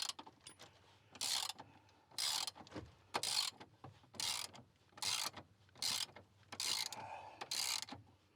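A hand ratchet loosens a bolt on a Ford truck, sounding as a series of rhythmic clicking bursts, about nine strokes with short pauses between them, close and clear with no talking.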